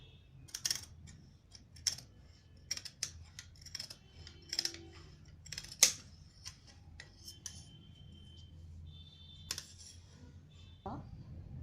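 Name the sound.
scissors cutting fabric along a traced skirt outline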